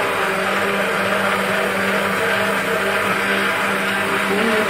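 A loud, steady whir of a blender puréeing pumpkin soup, running without pause, its motor droning evenly throughout.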